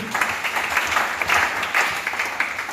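A church congregation breaks into sustained applause, dense clapping from many hands filling the room at steady volume with no speech over it.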